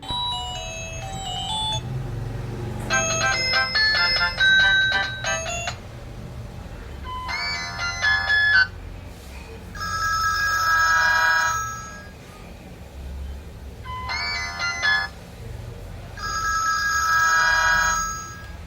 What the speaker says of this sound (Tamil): இந்த ரிங்டோன் செட்டிங்ஸ்லாம் நீங்கள் இப்போ பார்த்துருப்பீங்க எவ்வளோ லவுடாக இருந்ததுன்னு சொல்லிட்டு